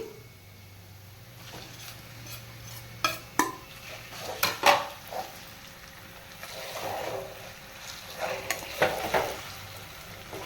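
Mango chutney being stirred into browned fried onions in a pan, with a steady frying sizzle and several sharp spoon scrapes and clinks against the pan, alone without talk.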